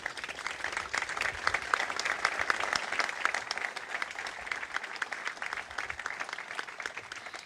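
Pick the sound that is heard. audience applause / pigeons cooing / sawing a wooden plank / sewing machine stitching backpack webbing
audience applause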